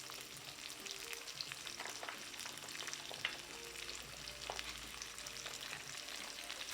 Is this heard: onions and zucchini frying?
yes